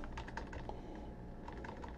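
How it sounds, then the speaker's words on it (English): Rapid keystrokes clatter on a computer keyboard in short bursts, close by, with a low background hum and no talking. "let's type in Google"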